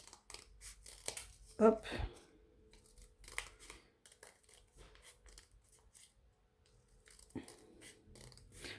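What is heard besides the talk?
scissors cutting paper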